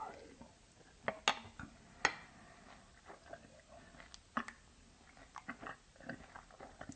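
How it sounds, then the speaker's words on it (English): A person chewing and eating breakfast cereal, with several crisp crunchy bites standing out above soft mouth noises, close to the microphone with no talking. "This is the story of me eating my cereal."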